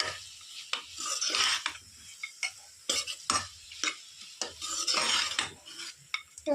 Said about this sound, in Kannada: ಇವಾಗ ಅದನ್ನು ಹಾಕ್ಬಿಟ್ಟು ಮಿಕ್ಸ್ ಮಾಡ್ತಾ ಇದ್ದಾರೆ ನೀಟಾಗಿ